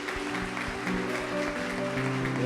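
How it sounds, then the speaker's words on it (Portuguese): A church congregation claps together in steady, continuous applause, filling the room as a dense mass of hand claps, with a few voices faintly underneath. "Vamos aplaudir a vida deles"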